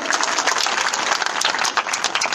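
Crowd applause at a political rally in Chhindwara, Madhya Pradesh: loud, dense, continuous clapping from a large audience, sustained evenly throughout.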